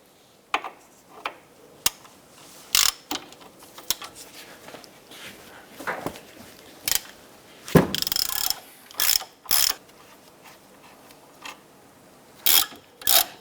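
Ratchet wrench loosening the two 19mm brake caliper and bracket bolts on a 2008-2013 Nissan Rogue's steering knuckle: bursts of sharp ratcheting clicks in short irregular runs, close up, with brief pauses between strokes and no talk.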